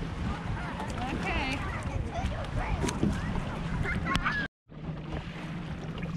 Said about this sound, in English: Into the incredible wind.